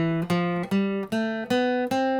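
C Ionian scale played one note at a time on a bright, sustained keyboard-like instrument, about six clear notes stepping upward at an even pace, close and loud with no talk.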